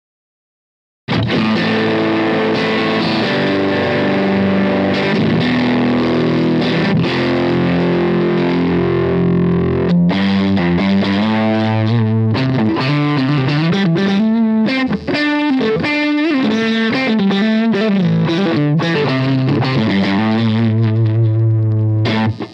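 A Fender Jazzmaster in the middle pickup position through a Ross Fuzz pedal plays sustained chords and then choppier riffs, heavily fuzzed, thick and distorted, loud and up close with no voices.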